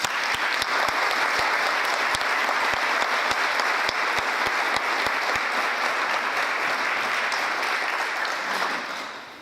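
A large audience claps steadily and densely for the 2015 Teacher Hall of Fame inductees, a sustained wash of hands filling the room before the applause thins and fades at the very end.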